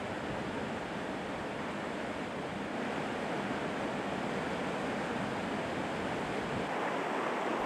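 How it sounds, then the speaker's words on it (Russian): Noisy mountain waterfalls on tributaries tumbling toward the Chulyshman river, a dense continuous rushing roar of falling water, steady and unbroken, with no voices. "они срываются вниз шумными водопадами"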